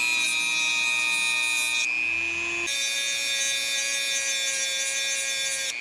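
A thin cutoff wheel grinds worn ignition points on an old Jeep, a continuous high-pitched metallic whine with a brief dip in tone midway as contact with the metal changes, close and steady throughout.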